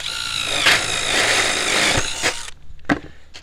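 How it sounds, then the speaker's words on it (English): A DeWalt power drill whirs steadily, drilling holes for a rabbit hutch fixture, for a couple of seconds, then stops, followed by a few clicks and knocks. "we're going to go ahead and drill holes."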